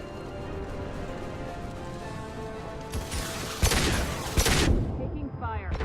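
Gunfire in a Mass Effect firefight breaks out after a steady hum, a few sharp loud bursts of shots in the last seconds with voices mixed in.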